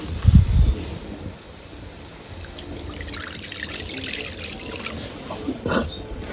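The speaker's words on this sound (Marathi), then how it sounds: "आता ह्या मसाल्याच्या कढईत मध्ये का नाही आपण थोडस पाणी वतायचं" Water is poured into a kadhai of masala for a mutton curry, giving a soft, close trickle and splash after a brief low thump, with faint kitchen clatter near the end.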